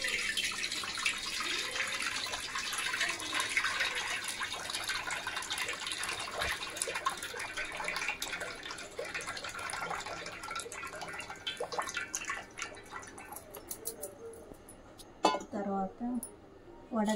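Tamarind water being strained in a home kitchen during Ugadi festival cooking, a steady trickling and splashing of liquid with small clinks of a vessel, fading toward the end as someone speaks briefly.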